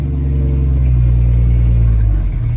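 A Jeep Cherokee XJ with a five-speed manual drives along, its engine a loud, steady low rumble with cabin drone and a slight shift in pitch near the end, no talk over it.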